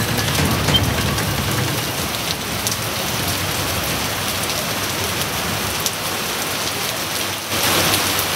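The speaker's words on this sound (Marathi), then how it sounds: "2 दिवसानंतर पुन्हा एकदा पावसाचं आगमन झालेलं आहे" Heavy rain falls on Pune in a dense, even hiss of drops hitting surfaces, constant and fairly loud with no voices.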